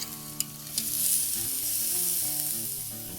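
Filet mignon steaks sizzling on a hot BBQ grill, a steady crackling fry with a couple of sharp clicks and scrapes as the fillets are turned and pressed down, no talking.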